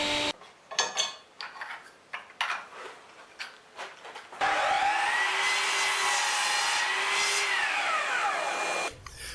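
A miter saw cuts oversized firewood blanks to length in a workshop, a loud steady whining cut lasting several seconds after a stretch of lighter clattering handling noises.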